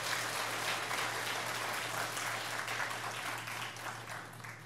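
Korean church congregation at a Friday worship service clapping for the worship team of keyboard, drums and bass guitar, a fairly faint, steady wash of applause over a low hum.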